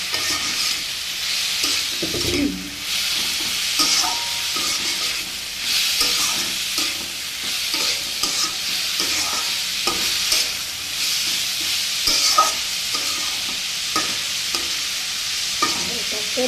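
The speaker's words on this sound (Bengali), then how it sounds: "এবার এটাকে মিশিয়ে ঢাকা দিয়ে ভালো করে মিশিয়ে ঢাকা দেবো।" Mixed vegetables stirred in a frying pan, giving a loud, steady sizzle close up with repeated scraping and clinking of a spatula, and no voices.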